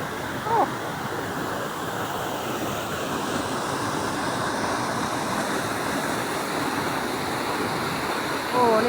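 Huai Kaeo waterfall's third tier in Chiang Rai roars as a steady, broad wash of falling water, close and unbroken throughout, with faint voices barely surfacing.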